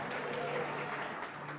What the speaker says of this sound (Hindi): ताली बजाएंगे परमेश्वर के लिए।